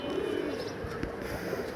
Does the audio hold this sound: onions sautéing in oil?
no